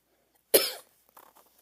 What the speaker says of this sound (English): I have like a little bit of a cough